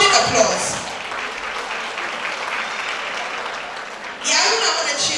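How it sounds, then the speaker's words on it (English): An audience in a hall at a women's forum in Katsina breaks into a round of applause that holds steady, with a speaker's voice heard at the start and again as the clapping continues at the end. "Please, can you give yourself a loud round of applause"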